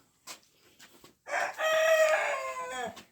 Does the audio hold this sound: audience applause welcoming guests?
no